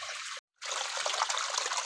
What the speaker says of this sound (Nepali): हाम्रो चाहिँ घरमै खोला पलायो साथीहरू, कति सङ्लो पानी छ